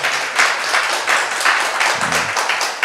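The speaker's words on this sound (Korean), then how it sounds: "다시 한번 큰 감사의 박수 보내주시면" Audience clapping in thanks after a guest professor's lecture at a church mission seminar, a steady round with pulsing swells throughout and a brief low voice near the end.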